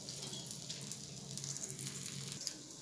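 A wheat flour onion dosa cooks in oil on a pan, giving a soft, steady hiss and crackle with small pops throughout, faint and close.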